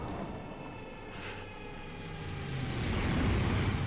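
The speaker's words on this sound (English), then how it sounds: "Ooh, the plane noises though." Plane noises on an airplane ride in the game Planet Coaster: a rumbling engine drone that swells louder toward the end, with a brief whoosh partway through and no talking.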